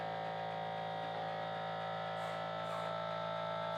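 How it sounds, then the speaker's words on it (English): A continuous inkjet printer's pumps run with a steady machine hum that drones on without pause, a low electrical buzz layered with faint higher whine, with no talking. "kick in shortly with the pumps running up"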